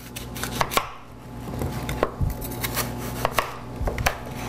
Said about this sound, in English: I'm going to cut this apple into fourths.